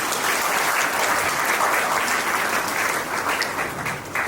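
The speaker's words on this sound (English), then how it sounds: "Another clap please for them." Audience clapping at a school felicitation ceremony for the 2024 batch, a loud, dense round of applause that runs steadily and thins slightly near the end.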